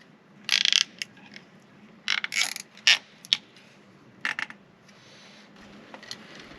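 A hand ratchet tightening bolts down during a Wi-Fi equipment install at an RV park, heard as a few short bursts of close metallic clicking separated by pauses over a low hum.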